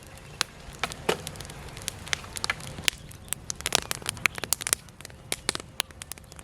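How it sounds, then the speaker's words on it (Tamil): A village wood fire crackles beneath a large pot of chicken tandoori, sharp irregular pops and snaps scattered over a soft low rumble, fairly quiet and close with no talking. "கொஞ்சம் வேகமாக போட்டு தம்பி கட்டையெல்லாம் போட்டு நெருப்பு பிடிக்கிற மாதிரி."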